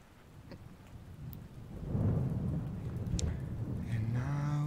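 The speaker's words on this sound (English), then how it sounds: "sound of thunder in the distance" Thunder rolls in the distance, a low rumble that swells after a quiet start and holds steadily over a soft rain-like hiss.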